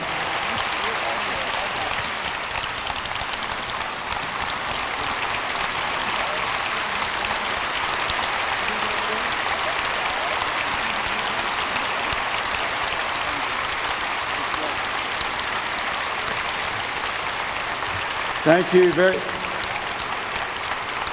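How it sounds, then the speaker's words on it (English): Applause from a large crowd at a book event with two guests, a steady wash of clapping running throughout under a speaking voice. "Another round of applause, ladies and gentlemen."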